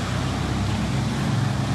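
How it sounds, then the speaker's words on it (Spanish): Cars drive through a flooded street in Xalapa, a continuous low rushing wash of engine and churned water close by, steady and fairly loud without pauses or talk. "Vienen carros allá."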